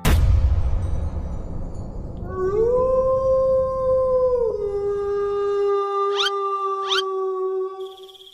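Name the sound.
wolf howling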